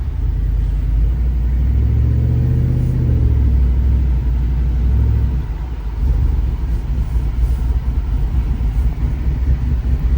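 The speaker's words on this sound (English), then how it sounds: "Really pleased with the exhaust sound it's got." A cammed 2024 GMC 1500 4x4 pickup with a swapped 6.6L engine rumbles with a deep exhaust note on a cold day, rising briefly as it revs, then settling into a steady low idle.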